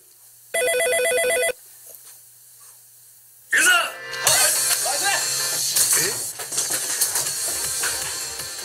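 A telephone rings with a single electronic burst of rapid trilling tones lasting about a second, followed by quiet, then a sudden clatter and rustling activity with voices in the room.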